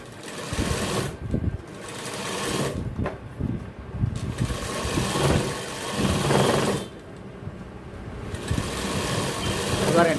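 Sewing machine stitching a belt seam on gents' trousers in a tailoring shop, running in steady bursts with brief pauses, close and fairly loud, with someone talking over it throughout.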